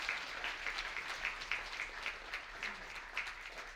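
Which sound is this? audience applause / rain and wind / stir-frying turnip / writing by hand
audience applause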